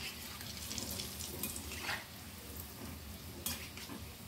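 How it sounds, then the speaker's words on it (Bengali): Palm fruit fritters (tal bada) fry in hot oil with a steady, faint hiss and crackle, broken by a couple of brief scraping stirs against the pan. "এবারে দেখুন এইভাবে লাল লাল করে ভেজে নিতে হবে।"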